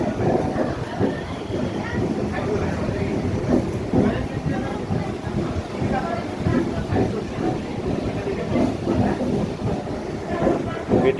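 A Digha Rath Yatra special local train in motion, with a steady, loud rumble and clatter of carriages on track close by, continuous throughout, and indistinct voices mixed in.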